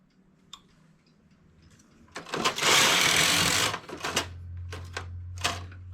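A domestic knitting machine carriage sweeps across a row of needles while knitting striped yarn, a loud rasping mechanical slide lasting over a second, followed by lighter clicks and a low steady hum.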